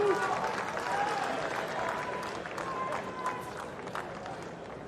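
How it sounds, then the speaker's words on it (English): Crowd applause breaks out at a US Open tennis match during a second-round singles contest, a broad wash of clapping under steady commentary talk that gradually eases off. "Even got the round of applause from Diallo."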